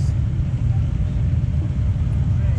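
A crowd of motorcycles at the Rolling Thunder rally in Washington, D.C., near Thunder Alley, gives off a dense, steady low rumble that continues without a break and stays loud and close throughout.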